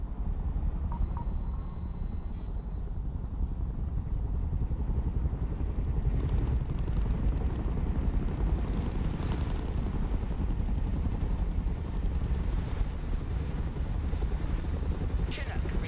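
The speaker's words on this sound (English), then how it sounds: "Let's go and recover it with our helicopter." A Chinook cargo helicopter in a video game flies steadily, its low rotor drone and rumble continuous and fairly close throughout, with occasional faint clicks on top.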